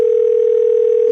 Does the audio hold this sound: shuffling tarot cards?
no